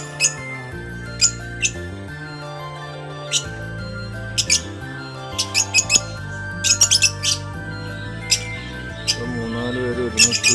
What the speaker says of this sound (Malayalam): നമ്മുടെ അടുത്ത കേജെത്തി ആഫ്രിക്കൻ ലവ് ബേർഡാണ്.